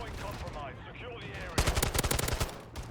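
Automatic gunfire in MW3 multiplayer, a loud rapid burst of a dozen or so close shots cutting in after game voice callouts, then tapering off.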